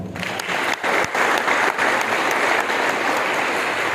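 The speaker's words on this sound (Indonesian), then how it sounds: "Boleh tepuk tangan." A seminar audience applauds steadily at the close of a talk, the dense clapping loud and close throughout with no voices over it.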